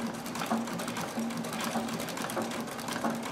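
A straight stitch sewing machine fitted with a zigzag cam attachment runs steadily and quietly, its soft rhythmic whirring and faint periodic ticks continuing alone without talk.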